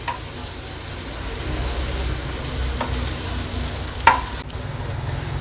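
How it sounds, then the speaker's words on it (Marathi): Red okra roasting on a hot tawa over a high gas flame: a low, steady sizzle with occasional sharp spatula scrapes and taps as the pieces are turned, and no speech. "आता ह्या तापलेल्या तव्यावर ही भेंडी आपण थोडी भाजून घ्यायची आहेत गॅसची फ्लेम हाय ठेवूनच उलत पालत करून ही मी व्यवस्थित भाजून घेते"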